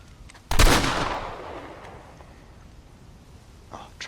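A single loud gunshot in the Red Dead Redemption game, a sharp crack with a long echoing decay that fades over about a second, followed by quiet background and a faint later noise.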